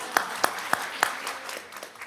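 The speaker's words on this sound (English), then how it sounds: "Let's give her a big round of applause." Sparse applause from a small audience at a school district governing board meeting, a handful of distinct claps standing out over a faint murmur, fading quickly within about two seconds.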